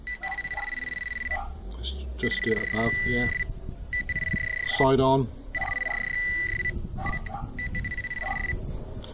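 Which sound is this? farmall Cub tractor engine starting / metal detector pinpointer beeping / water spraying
metal detector pinpointer beeping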